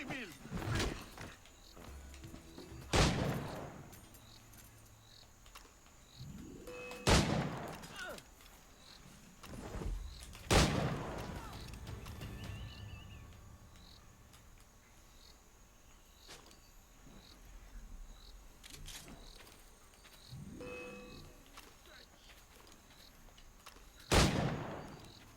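Sharp gunshots in Assassin's Creed IV, about five loud isolated bangs spread several seconds apart, each with a brief ringing tail over a quiet ambient background with insect-like chirps.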